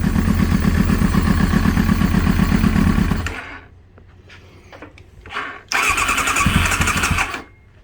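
A Kawasaki ZX9R motorcycle engine cranks and fires on choke, running with a loud, close, rough clatter for about three seconds before dying, then sputtering faintly and catching again into a second loud burst near the end.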